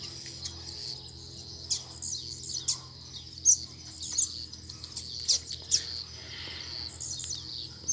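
A coleiro pardo songbird arriving outdoors: scattered thin, high chirps and tweets at irregular intervals, fairly close, over a steady insect-like hum and faint low background drone.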